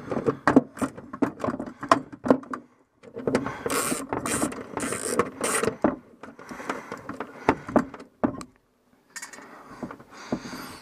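Parts being tightened from behind with a hand tool during a retro picnic gathering: close clicks, taps and rattling metallic fiddling in uneven bursts, with brief silent pauses between.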